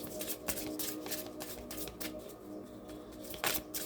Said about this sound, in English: I think I'm gonna put some cards right there too.